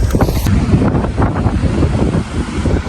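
Strong, steady wind buffeting the microphone at the seaside in Torrevieja, Spain, a loud continuous rumble with gusty roar and no speech.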